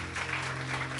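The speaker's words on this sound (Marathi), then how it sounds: "जरा जोरदार टाळ्या प्रभूच्या गौरवासाठी" A church congregation claps together in praise of the Lord, a dense burst of steady applause filling the short stretch at moderate loudness, with no words over it.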